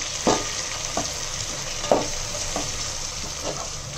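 Chopped mint and coriander leaves fry for prawn biryani under a steady sizzle, while a spoon scrapes and stirs the pan in about five or six spaced strokes.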